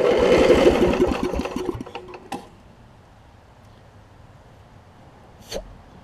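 A Snapper RER riding mower with a broken governor and water in the fuel cranks and sputters loudly for about two seconds, then dies into near silence, followed by a single faint click.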